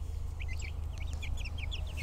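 Chicks cheep in rapid, high-pitched peeps, several overlapping calls repeating over a steady low rumble.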